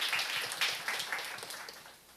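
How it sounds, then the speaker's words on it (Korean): An audience at a Korean NCS mini-concert gives a short round of applause, a soft patter of scattered hand claps that fades over about two seconds with no talk. "이 상황에서 박수 한번 보내주시기 바랍니다."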